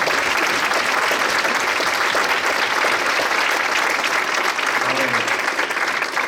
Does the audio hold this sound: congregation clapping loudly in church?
yes